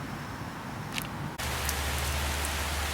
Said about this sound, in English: So just like I had anticipated, it is now raining, so let's take a look at how the tent's doing.